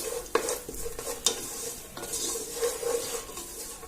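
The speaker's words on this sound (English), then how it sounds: "I've put 1 tablespoon of desi ghee. Now let's saute the dry fruits. Let me put the almonds. Let's saute the almonds." Almonds sautéing in a tablespoon of desi ghee in a pan over low-medium heat, a quiet sizzle punctuated by a few sharp spoon clinks and scrapes against the metal, no voices.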